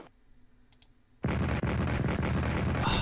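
Artillery fire in the World War I strategy game Strategic Command: after a quiet stretch with faint clicks, a loud sustained barrage of rumbling blasts and bursts erupts and keeps going.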